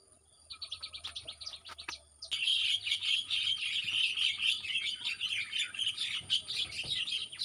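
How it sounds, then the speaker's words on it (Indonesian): Many birds chirp and twitter busily in a garden among fruiting plants, a dense, continuous chorus of high calls that starts sparse and swells into a loud, steady wash, with a faint insect-like buzz underneath. "Burung-burung ramai ya"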